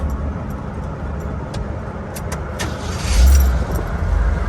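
A Jeep CJ7 engine starts back up and runs with a steady rumble, growing louder in a low surge near the end, with no voices.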